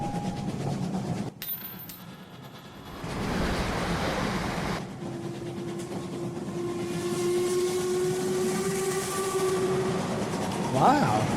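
Train moving along railway tracks in a music video: a sustained rumble with a long, rising whistle-like tone building through the second half, loud and fairly close, with no voices.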